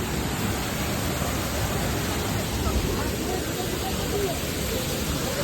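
Rushing water at Lonavla roars steadily and close, a thick unbroken wash of noise with faint voices buried beneath it.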